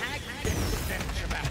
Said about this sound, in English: Well, I blinded it with a firework.